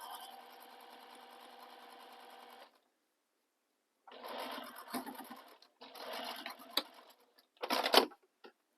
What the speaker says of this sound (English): And then we're going to top stitch across, just like we did with the exterior.